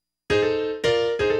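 A blues piano riff in F is played solo, three chord strikes after a brief silence, each rich and ringing, close and clear with sustained decay between hits.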